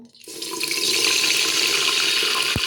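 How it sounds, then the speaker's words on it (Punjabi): Brinjals go into well-heated oil and start frying, a loud bright sizzle rising sharply after a brief quiet start and holding steady, with one sharp clink near the end. "ਲੋ ਜੀ ਤੇਲ ਆਪਣਾ ਕੜ ਗਿਆ ਚੰਗੀ ਤਰ੍ਹਾਂ ਤੇ ਹੁਣ ਆਪਾਂ ਵਿੱਚ ਰੱਖ ਲਾਂਗੇ ਵੈਂਗਣਾ ਨੂੰ"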